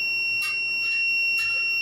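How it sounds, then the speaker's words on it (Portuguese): Microwave oven control board sounding its beep with the door open during testing: two short, loud electronic beeps about a second apart over a constant high-pitched whine. "É emitido o bip sonoro mesmo com a porta aberta"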